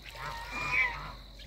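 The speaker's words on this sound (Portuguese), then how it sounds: "Olha os gansos." Faint goose honks rise briefly amid soft outdoor background, peaking near the middle of the short clip.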